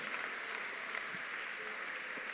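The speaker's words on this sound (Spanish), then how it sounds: "A ver, un aplauso para Él, hermanos." Church congregation applauding together during a worship service, a steady, even wash of clapping at moderate distance that holds for the whole stretch without a voice.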